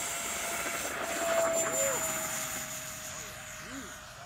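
An E-Flite F-15 Eagle 64mm EDF model jet flies by with a steady, high ducted-fan whine that shifts slightly in pitch and stays at moderate distance over outdoor background noise.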